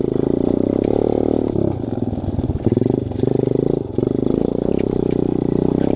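A motorcycle's engine runs loud and close on a mountain dirt trail in Sarangani Province, with a steady, throbbing drone that shifts and falters as the bike works over rough ground.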